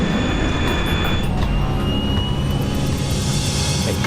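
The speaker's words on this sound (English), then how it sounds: "The plane lifts off the runway." A jet airliner's engines roar at full takeoff power as the plane lifts off the runway, a loud, steady broadband rush with a high whine running throughout and no voices.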